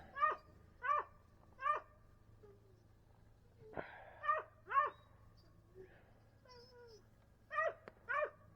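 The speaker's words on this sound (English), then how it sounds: "I'll try to take the dog barking out the best I can." A dog gives repeated short, yelping barks in clusters, three quick ones, a pause, then more pairs, moderately close over a low steady hum.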